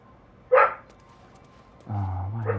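A dog gives a single sharp bark, followed a moment later by a longer whining yelp, close by with quiet background between.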